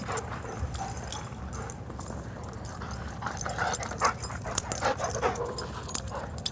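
Dogs whimper and pant close by amid scuffling paws and play noises, getting a bit more active toward the end.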